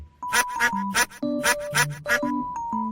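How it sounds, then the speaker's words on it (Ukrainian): A duck quacks repeatedly in loud, close bursts, several quacks in quick succession with short pauses between them. "Це качка, яка крякає і плаває в ставку."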